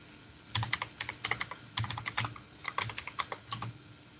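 Fingers type a command on a computer keyboard in quick irregular bursts of clicky keystrokes with short pauses between, close and clear with no voices.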